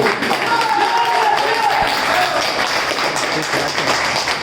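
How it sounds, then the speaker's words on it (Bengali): Audience applause welcomes a guest at a presentation event in Medinipur: dense, steady clapping from a crowd fills the whole stretch at an even, fairly loud level, with a faint murmur of voices mixed in. "তো এই অতিথির জন্য একটা জোরদার তালি বলছি আমি"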